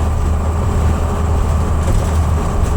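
An old bus on the move gives a steady, loud, low engine and road rumble with constant cabin noise and no talking.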